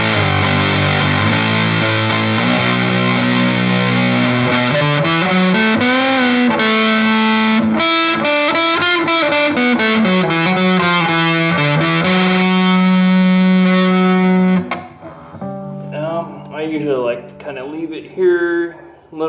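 An electric guitar plays through a RAT-style distortion pedal turned all the way up, heavy and saturated, sustained notes bending and ringing, ending with a few choppier, quieter phrases.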